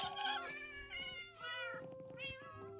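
Black cats at an adoption shelter in a video game meow repeatedly in close, clear, drawn-out cries that overlap into a steady chorus with no talking.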